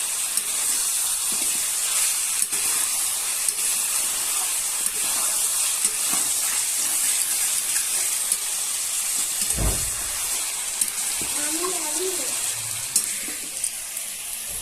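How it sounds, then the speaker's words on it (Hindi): Chicken frying in oil with onion and tomato for a curry, giving a continuous loud sizzle and hiss with a few soft clinks partway through and no talk. "उसके बाद मैंने इसमें चिकन डाल दिया और देखिए इसको भी अच्छे से भून रही हूँ।"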